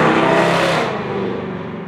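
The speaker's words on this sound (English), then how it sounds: "That was the starter running, but not engaging." A starter motor on a 70-year-old engine spins without engaging, giving a loud, steady whirring drone that fades and drops off after about a second.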